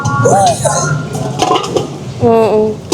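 Metal cooking pots clank and clink briefly as they are handled at a secondhand sale, with people talking over the sounds.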